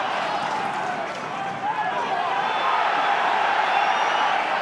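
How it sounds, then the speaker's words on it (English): A rugby crowd at an Ulster versus Dragons match bays for a penalty, a sustained, loud roar of many voices that swells slightly midway and holds steady throughout. "Crowd baying for a penalty"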